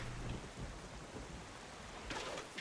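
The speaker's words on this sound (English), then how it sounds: "Alright, waters are a little stormy right now." Stormy sea with rain in The Legend of Zelda: Wind Waker, a dense continuous wash of rain and rumbling water with a brighter surge near the end, no talking.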